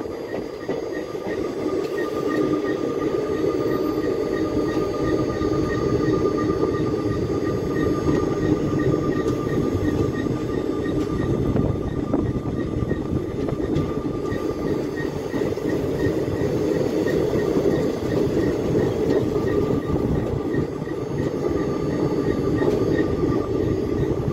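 Koyna Express passenger train running steadily between Kolhapur and Pune near Lonand and Nira, a continuous loud rumble of wheels and carriages with faint rattling throughout, no talk.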